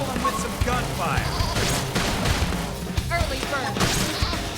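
Combat in the video game Xenoblade Chronicles X, with rapid gunshots and crashing impacts layered over battle effects and game music, and character voices shouting over the action.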